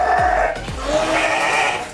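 Garut sheep rams bleat in a colony pen, a couple of loud, close, wavering calls overlapping in quick succession against farmyard background.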